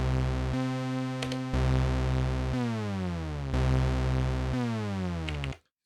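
Elektron Analog Rytm drone with a trig slide: a thick, buzzing sustained tone that repeatedly glides down from two octaves higher to its base pitch in sweeping sections, loud and steady before cutting off abruptly.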